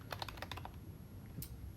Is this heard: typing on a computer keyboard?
yes